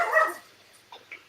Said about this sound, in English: And that is my dog chiming in there.